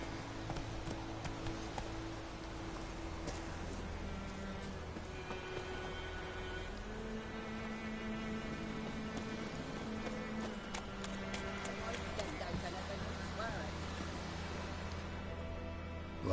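Steady clip-clop of Geralt's horse Roach trotting in The Witcher 3, continuous and even under a layer of game music.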